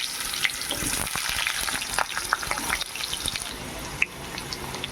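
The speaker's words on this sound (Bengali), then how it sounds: "আলু একটু ভেজে নিচ্ছি।" Potatoes frying in hot oil give a continuous crackling sizzle studded with sharp pops and spits, close and fairly quiet, with no one speaking.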